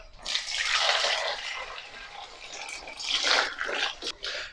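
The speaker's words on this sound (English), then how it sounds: "We'll cover these in boiling water." Boiling water poured from a kettle over six eggs in a pan, a steady broadband splashing pour that runs near and loud for about four seconds, swelling again toward the end, with no talk.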